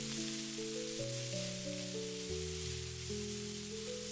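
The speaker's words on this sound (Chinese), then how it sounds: "接下來把青椒、小米辣也倒下去，快速翻炒均勻，把青椒、小米辣炒出鮮辣味" Green peppers and bird's eye chilies stir-fry in a hot wok with a steady, broad sizzle, heard under a continuous tonal music bed with no talking.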